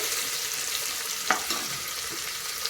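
Soaked peas frying on a slow flame, a steady close sizzle with a brief stirring clink partway through.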